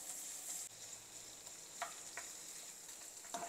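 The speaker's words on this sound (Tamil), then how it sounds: "கொஞ்சம் பட்டர் ஆட் பண்ணிவிட்டு பன்னீர் கொஞ்சம் இதில் டாஸ் பண்ணிக்கலாம்" Paneer tossed and fried in butter with a pinch of red chilli powder and salt, a steady close sizzle with a few light scraping stirs of a spatula in the pan.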